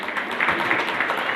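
An audience claps at a Sindhi community ceremony honouring women, giving a steady, fairly loud patter of many hands with slight swells, lasting about a second and a half with no talk over it.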